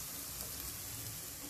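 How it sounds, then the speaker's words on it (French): Onions brown in a pan with a faint, steady sizzle that runs for a short moment, with no voices over it. "une fois que mes oignons sont dorés, je fais dorer toujours les oignons avant de mettre la viande"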